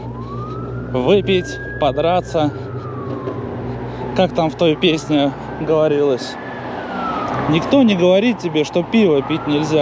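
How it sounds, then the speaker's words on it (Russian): A wailing ambulance siren passes through Tallinn streets near a concert crowd, rising and falling in long sweeps at moderate distance while someone talks over it throughout. "А, нет, это не полиция, это скорая."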